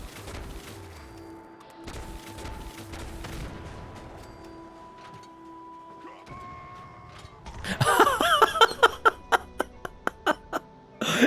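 Explosions and rapid gunfire from the video game Fallout 76 break out partway through, a loud run of sharp evenly spaced bangs following quieter game sounds.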